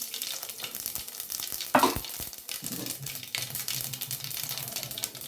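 Mustard seeds splutter and crackle in hot oil alongside cumin and fennel, a steady close sizzle with one louder burst of popping and stirring partway through.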